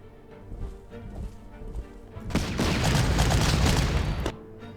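Gunfire strikes a strong point in the Panzer Corps wargame, North Africa campaign: scattered thuds and clicks at first, then a loud sustained volley of shots and blasts swelling for about two seconds before it cuts off.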